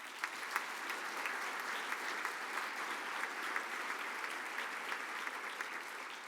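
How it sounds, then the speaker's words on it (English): A conference audience gives steady, dense applause for the volunteers at a TriCon plenary session, with continuous clapping at moderate distance and no speech over it. "How about a big round of applause for all of them?"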